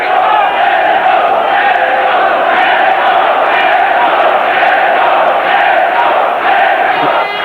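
A sell-out boxing crowd in Vienna roars for Zeljko Mavrovic against Julius Francis, a loud, unbroken wall of cheering and shouting that holds steady throughout.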